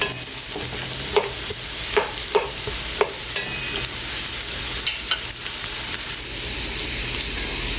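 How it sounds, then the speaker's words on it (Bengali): Onions sizzle steadily in hot oil for biryani rice, a constant crackling hiss punctuated by the clinks and scrapes of a spoon stirring the pan. "পেঁয়াজটা ভেজে নিচ্ছি।"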